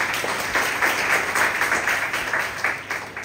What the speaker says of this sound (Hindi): ताली बजाएंगे यीशु मसीह के लिए,